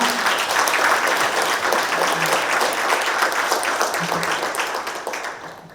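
Dense, loud applause from the audience at a regional council meeting in a hall, many hands clapping together in a continuous roar that holds steady and then slowly tapers off near the end.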